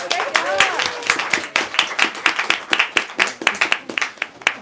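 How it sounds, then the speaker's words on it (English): Scattered clapping from a small audience at a book talk, uneven and close, mixed with voices talking over it. "Let's give these two one last round of applause"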